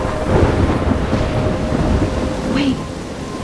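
Thunderstorm in the video game Life Is Strange, a steady wash of rain and low rolling rumble filling the scene at fairly high level, with a brief brighter crackle near the end.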